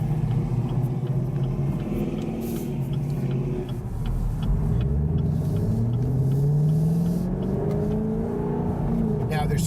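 A Chevrolet Camaro SS convertible with a 6-speed manual driving on the road, its steady engine rumble rising and falling through gear changes, with people talking over it.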